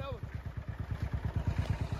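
A Royal Enfield Bullet motorcycle engine thumps along in a steady, fast, even rhythm close to the listener, a deep pulsing beat that fills the clip with no talk over it.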